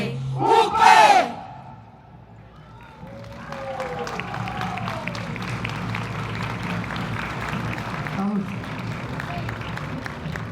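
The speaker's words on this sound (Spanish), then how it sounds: "Un aplauso fuerte, gigante" A crowd at a Unión Patriótica political rally in Colombia roars and applauds: a loud shouted cry bursts out first, then a dense, steady wash of cheering voices and clapping holds for several seconds.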